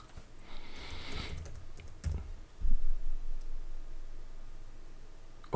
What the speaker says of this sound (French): Je valide par une entrée au clavier.